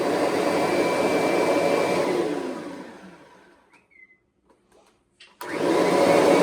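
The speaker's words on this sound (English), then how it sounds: "Gonna run my 2017 Kirby Avalir." A 2017 Kirby Avalir upright vacuum cleaner runs with a steady loud whir, then spins down into silence with a few faint clicks before starting up again abruptly.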